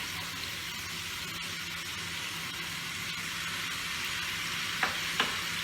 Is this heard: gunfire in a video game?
no